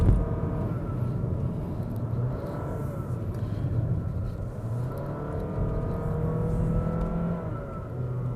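A 2022 Honda City RS Hatchback with i-MMD hybrid drive climbing Genting Hill, a steady interior engine drone and road rumble with rising and falling tones as it pulls uphill, no talking.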